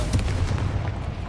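An explosive spell blast in Hogwarts Legacy, a loud booming burst with a rumbling low-end tail that fades over about a second.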